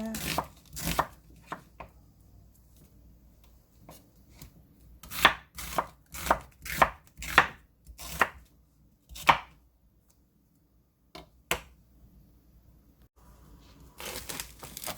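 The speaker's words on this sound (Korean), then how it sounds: "먼저 양파 손질을 합니다. 양파 반 개입니다." A knife chops half an onion on a cutting board, with a few quick chops, a pause, then a steady run of crisp rhythmic thuds, followed by a few scattered cuts near the end, close and clear.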